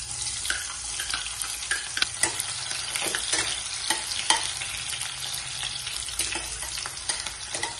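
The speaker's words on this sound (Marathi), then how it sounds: "मंद आचेवर थोडासा आपण कांदा परतून घेऊ।" Chopped onion fries on a low flame with bay leaf and green and black cardamom for masoor rice, a dense, watery crackling hiss with frequent sharp spatters and stirring scrapes throughout.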